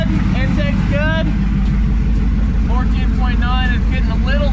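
An LS twin turbo Mustang engine idles with a steady, loud low rumble throughout, while someone talks over it in short bursts.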